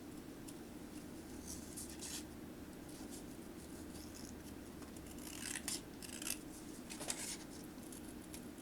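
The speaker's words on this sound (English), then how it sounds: "Just cutting around this frame, and then we're going to glue it onto some black cardstock." Small scissors snipping around a paper photo frame for a mini album, a steady soft crunching and rubbing with a few brief sharper snips near the end, close and quiet with no talking.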